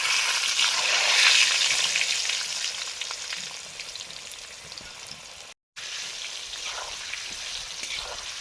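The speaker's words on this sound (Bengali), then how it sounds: "জলটা পড়ার সঙ্গে সঙ্গে এত তেল ছিটকে আসে" Salted potatoes fry in hot oil in a home kitchen pan, spattering where water meets the oil; a loud, steady sizzle and crackle that eases slightly, then continues after a brief cut.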